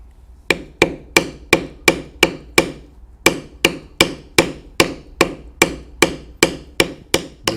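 A mallet strikes a checkered beveler on leather while a standing buffalo is carved, giving about eighteen crisp, evenly spaced taps with a short pause after the first few, close and alone.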